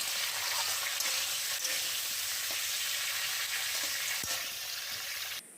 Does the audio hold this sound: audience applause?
no